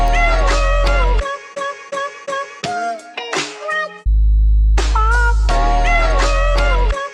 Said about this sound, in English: So he basically just follows the sample with the bass.